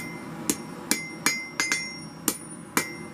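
Hammer blows on hot metal at the forge, beveling a blade edge down to angle: seven sharp, ringing strikes at a steady, slightly uneven pace, close and loud, with no talk.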